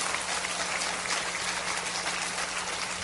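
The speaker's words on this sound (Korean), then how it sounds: "우리 한번 박수 한번 해 주십시오" A congregation at a joint church worship service applauds steadily, a soft, even wash of many hands clapping at a distance with no talking.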